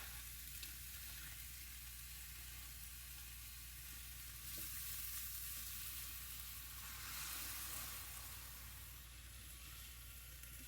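Turkey sausage sizzles steadily in a hot frying pan, a soft continuous crackling hiss with a few brief swells, quiet and close with no talking.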